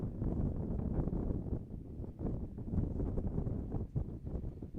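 Strong gust of wind buffeting the microphone at a baseball field during a stoppage, a loud continuous low roar and rumble that swells and eases over several seconds with no one talking.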